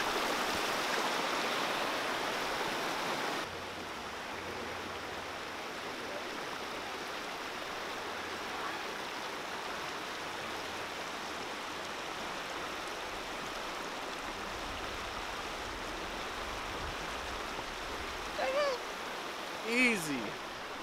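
Steady rushing water flows nearby, a broad continuous wash of sound, with a couple of brief faint voices near the end.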